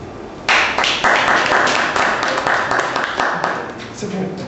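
Audience applause at a Saturday conference at ISCM in Abidjan, Cocody Angré, a dense steady clapping that starts abruptly and carries on loud and close through the whole stretch, thinning slightly toward the end.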